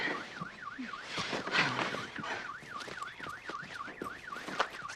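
A security alarm wails with a rapid rising-and-falling electronic tone, steady and continuous, heard from a moderate distance.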